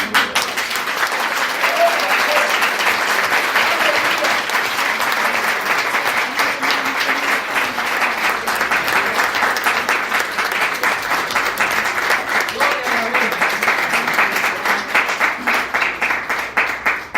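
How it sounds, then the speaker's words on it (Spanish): A church congregation applauds at length, a steady, full roar of clapping from many hands that carries on without pause, with faint voices mixed in. "Alguien denle un buen aplauso al Señor."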